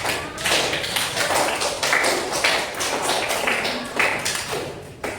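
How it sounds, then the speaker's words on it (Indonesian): Applause from a classroom audience after a maths presentation: a dense run of overlapping claps that rises and falls in waves, close and fairly loud. "Kita kasih aplaus"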